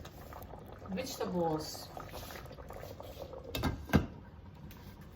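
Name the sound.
chicken afritada stew boiling in a pot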